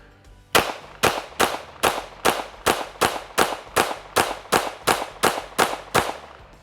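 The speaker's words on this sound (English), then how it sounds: "Last pistol up in comparison to the Laugo Arms Alien Smith & Wesson Competitor." A Smith & Wesson Competitor pistol fires about fourteen sharp, loud shots in a steady rapid rhythm, each crack ringing out briefly before the next, with no talk.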